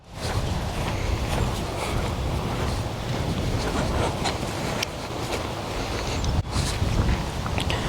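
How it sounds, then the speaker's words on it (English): Strong gusting wind on a golf course buffets the microphone in a loud, continuous low rumble with brief surges, and no one speaks. "A lot of wind."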